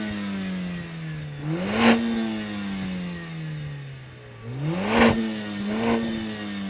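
A Mercedes-AMG A45 S in race mode with its sports exhaust on, revving loudly and close by: two sharp blips climb from a steady idle and fall back, then a third shorter rev near the end.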